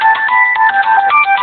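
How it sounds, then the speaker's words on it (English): A phone's built-in locate alert triggered remotely by a tracking service, a loud electronic ringtone of rapid repeating beeping tones, steady and close with no talking. "Just tap on this, it will play a sound on it and you can locate it."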